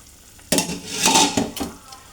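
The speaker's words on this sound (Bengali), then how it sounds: "এখন আমি মাছটা ঢেলে দেব।" Fish tipped into a bubbling curry in a pot lands with a sudden splashing burst after a brief quiet, followed by a few close stirring scrapes and a settling simmer.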